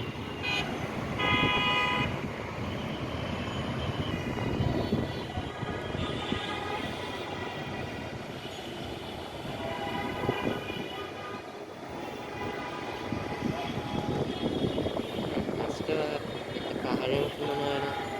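A Dhaka metro rail train approaches fast near the National Press Club area, a broad rising rumble with a brief horn toot, mixed with steady city traffic noise and faint voices throughout.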